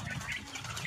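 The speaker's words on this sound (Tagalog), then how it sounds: "Oh, ang daming manok." Chickens flap their wings at a small hatchery, a soft fluttering rustle that repeats through the short moment at close range.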